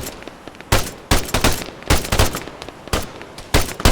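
Arma 3 combat with sharp, loud gunshots in irregular bursts and single cracks, close and punchy, rattling off rapidly against a quieter background.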